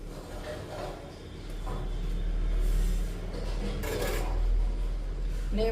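A spice masala is mixed in a pan with repeated rough scraping and rasping strokes over a low, steady background hum.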